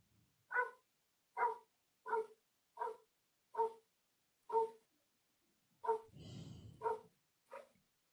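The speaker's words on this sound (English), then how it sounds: "my dogs are going off about something." Dogs bark in a steady run of about nine sharp, evenly spaced barks at moderate distance. One bark near the end carries a rougher, drawn-out growl.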